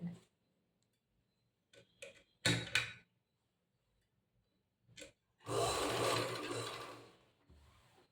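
A sewing machine stitches a zigzag seam along a saree fall, heard as a few short, quiet bursts and then a steadier whirring run of about a second and a half, with faint clicks between.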